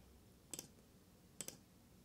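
Two crisp mouse clicks about a second apart while a GigE camera option is selected and confirmed in a Swing Catalyst software installer, each a quick doubled tick, close and fairly quiet over faint room hiss.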